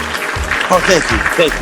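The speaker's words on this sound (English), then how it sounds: "A round of applause for Rockin' Ropes." Steady clapping from a crowd fills the clip while a voice loudly calls for a round of applause for the group Rockin' Ropes.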